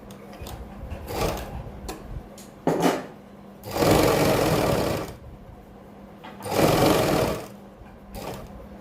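A sewing machine stitches folded fabric around a kurti neckline, running in short bursts and two longer steady whirring passes with brief clicks and pauses between, close and clear with no speech.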